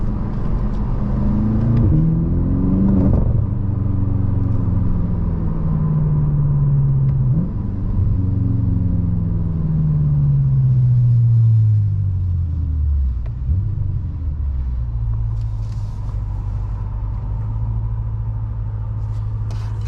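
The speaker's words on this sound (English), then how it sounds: "The car makes some nice sounds on the downshifts." A 2013 BMW M5 V8 on the move, rumbling loudly and steadily with falling pitch sweeps as it blips through downshifts, then settling into a low, even drone, no talking over it.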